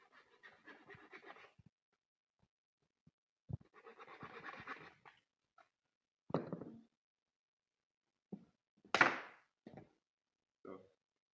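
A 25 mm electrical pipe coupler is cut, giving close, intermittent scraping strokes separated by pauses and a few dull knocks.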